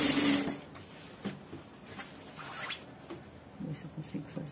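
Sewing machine stitching a curved bias-cut hem on a child's crinoline skirt, with short intermittent bursts of stitching and pauses, fairly quiet and close.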